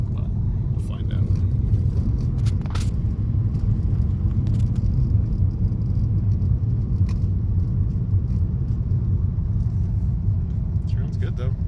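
A Hyundai Genesis, bought as a run-and-drive car with its check engine light on, runs with a steady low rumble, loud and close, with a few faint clicks and knocks above it.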